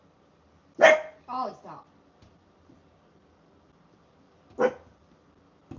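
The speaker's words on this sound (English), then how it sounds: "What's he barking at?" A dog named Ollie barks indoors: one loud bark followed by two shorter ones, then a single bark a few seconds later, with a person briefly speaking to it.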